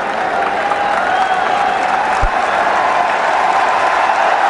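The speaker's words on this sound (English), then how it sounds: "a rousing reception from the crowd here in Kanpur" A cricket crowd in Kanpur applauds and cheers a batsman's half century at a one-day international against India, a steady, loud roar of clapping and cheering with no break.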